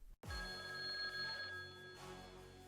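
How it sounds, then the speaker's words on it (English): A telephone rings loudly and steadily after a brief silence, an electronic bell-like tone that carries on alone for more than two seconds. "your phone rings"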